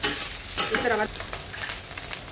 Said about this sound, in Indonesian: Ini dimasak terus sampai keluar aroma nasi goreng.